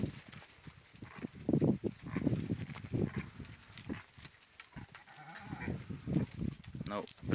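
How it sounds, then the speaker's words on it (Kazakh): Young fat-tailed rams in a flock give repeated bleats near and far, mixed with some background talk. "Биылғы қошқарлар бұлар."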